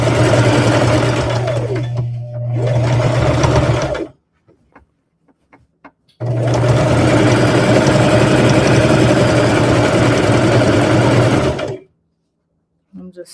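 Domestic sewing machine stitching a rag quilt, running in two loud close bursts with a brief slowdown in the first and a pause between, the second run long and fast before stopping.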